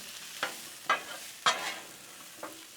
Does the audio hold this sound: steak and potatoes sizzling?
yes